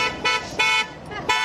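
A car horn sounds in four short honks with brief gaps, fairly loud and close, over a steady background hum.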